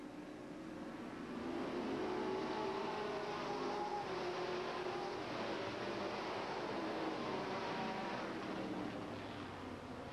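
Sportsman race cars roar around Hales Corners Speedway in 1988, a sustained blended engine drone from a pack of cars swelling and holding steady at moderate distance, with no voices.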